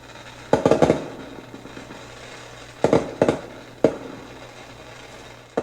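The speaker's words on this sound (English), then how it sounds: "Let's go to fireworks here." Fireworks effect played through a Govee Table Lamp 2 Pro speaker: sharp bursts of crackling pops in three separate clusters, each with a quick decay, over a faint steady hum.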